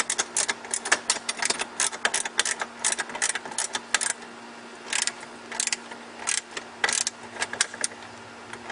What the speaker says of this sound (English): This is where you're going to use your 13mm ratchet as well.